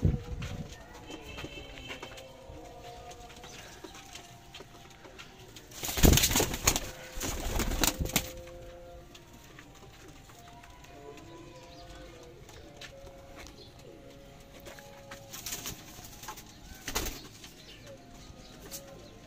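Pigeons coo softly in low, repeated phrases, joined by a burst of wing flapping and rustling near the middle.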